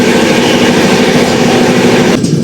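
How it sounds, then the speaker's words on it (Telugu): A moving train on the route toward Jhansi Junction in Uttar Pradesh, its steady loud rumble and rattle filling the whole stretch before cutting off abruptly near the end; no one speaks. "అది మన ట్రైన్ అయితే ఆన్ టైమే నడుస్తుంది"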